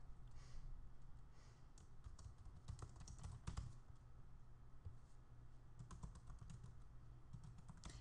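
Rapid, steady typing on a computer keyboard fills the clip, close and fairly faint, with irregular bursts of key clicks and no talking.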